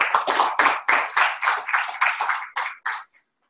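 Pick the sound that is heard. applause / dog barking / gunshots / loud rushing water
applause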